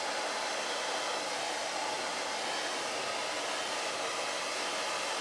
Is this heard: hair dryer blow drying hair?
yes